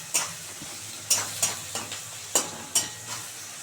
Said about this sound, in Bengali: অল্প একটু চিনি দিয়ে পেঁয়াজটা সুন্দর করে ভাজবো